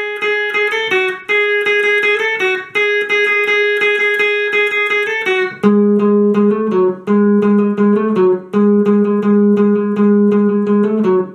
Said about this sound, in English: So now let's get right into the chorus and into the chorus melody, which should sound like this.